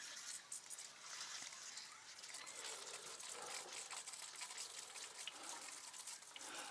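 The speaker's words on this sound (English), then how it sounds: "spray water bottle." A small handheld spray bottle mists water over young pineapple plants, a soft, continuous hissing spray that stays faint and close with no talking over it.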